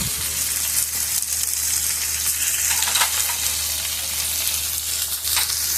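Dried red chillies, cashews and cardamom sautéing in a pan for paneer butter masala, a steady close sizzle running the whole way with faint scraping stirs and no talking.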